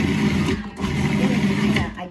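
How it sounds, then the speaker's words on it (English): Food processor chopping unpeeled, unblanched tomatoes for sauce, a steady close whirring buzz lasting a couple of seconds with slight pulses. "I got some in the food processor."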